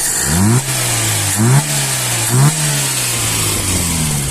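A VAZ 2108/2109 1.3 engine with a repaired Solex carburetor is revved three times in quick blips, each climbing sharply and dropping back to a steady idle, loud and close with no talking.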